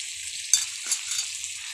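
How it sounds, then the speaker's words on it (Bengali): Chopped onions frying in a pan, with a close, bright, hissing sizzle and a couple of sharp crackles or stirring knocks, and no voices. "পেঁয়াজের কুচিগুলো দিয়ে দিচ্ছি"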